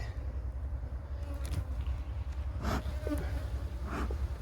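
Honeybees drone in a low, steady hum at an open hive box, with a few louder buzzing passes close by against the constant background drone.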